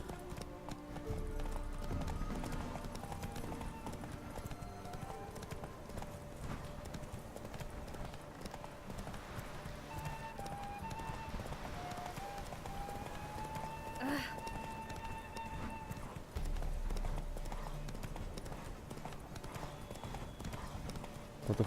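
Hooves clip-clop at a steady galloping rhythm from a horse in the video game The Witcher 3, running continuously beneath game music and occasional voices.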